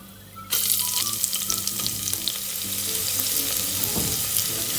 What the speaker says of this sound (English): fresh curry leaves. Again saute around 30 seconds